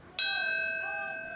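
A single church-style bell strikes once at the 15th anniversary ceremony of the 9/11 World Trade Center attacks, ringing out loud and clear, then holding a long, slowly fading tone.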